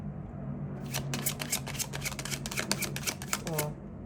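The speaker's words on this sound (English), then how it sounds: "I'm just gonna go ahead and shuffle" Tarot cards being shuffled by hand in a quiet room, a rapid run of crisp riffling flicks close to the mic that lasts the full four seconds with small gaps, over a low steady hum.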